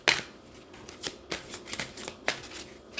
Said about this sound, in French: nous allons tirer les cartes